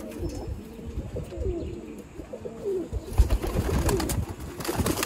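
Pigeons of a high-flying breed coo in low, rolling murmurs, several overlapping calls continuing steadily at close range with a brief rustle of movement near the end.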